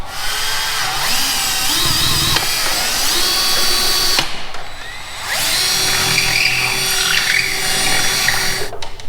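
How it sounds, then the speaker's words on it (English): A power drill with a 5/32 bit drills holes on an Arrma Kraton RC car, whining steadily at high speed, pausing briefly midway before spinning up again, loud and close. "it is a 5/32 drill bit that I'm going to use"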